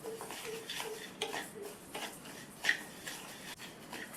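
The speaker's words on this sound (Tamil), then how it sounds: "அதில் அரை கப் அரிசியை சேர்த்து கருகிராமல் நல்லா வாசனை வர வரையும் வறுத்துக்கணும்" Half a cup of rice dry-roasting in a hot pan, stirred with a metal utensil, giving steady light scraping and rattling with soft clinks, close and continuous.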